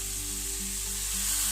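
Butter sizzles steadily in a non-stick pan, a soft, constant hiss with a faint hum underneath and no talking.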